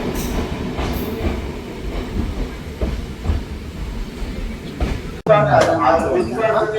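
Train pulling out of Anuradhapura station, rumbling and clattering wheels in a steady rhythm with a sharp clunk midway, a voice talking over the rail noise throughout.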